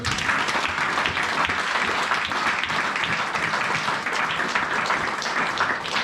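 A church congregation applauds and cheers during a worship service, a dense continuous wash of clapping that holds steady throughout without a break.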